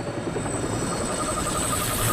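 A helicopter in flight drones steadily with a dense, continuous rotor and engine rumble at even loudness, heard from inside or close by with no speech.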